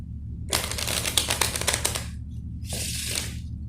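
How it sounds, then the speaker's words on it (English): Crisp riffling of a deck of cards being shuffled, a longer burst followed by a shorter second riffle, close by over a low steady hum. "I'm just giving a deck a refill shuffle"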